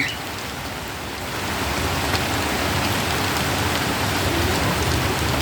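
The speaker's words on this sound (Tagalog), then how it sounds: "umulan na. Maulan na, maulan." Rain falls steadily with a dense, even patter on surfaces, growing slightly heavier after the first second and continuing without any other sounds.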